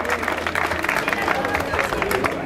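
A crowd at a sprint race event in Couëron claps steadily in dense, continuous applause, with someone speaking over it.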